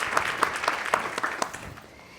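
Applause from a conference audience after a panelist is introduced at a health-systems event, a moderate, dense patter of clapping that tapers off near the end.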